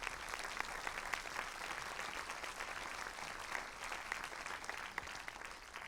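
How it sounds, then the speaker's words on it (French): An audience in a festival hall during an international film festival opening ceremony gives sustained applause, a dense even patter of many hands heard from a distance at low level. "si vous pouvez l'applaudir quelques instants pour lui rendre hommage"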